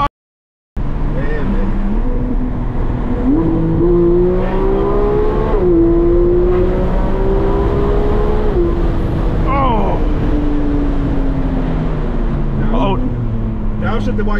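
Inside a Porsche 911 GT3, the engine revs loud and close, its pitch climbing through the gears in long pulls with brief dips at the shifts.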